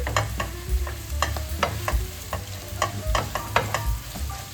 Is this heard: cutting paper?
no